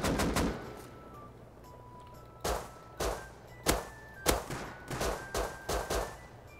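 Gunfire from the survival game Rust: a rapid burst of shots at the start, then about eight single, spaced shots ringing out sharply over quiet ambient background.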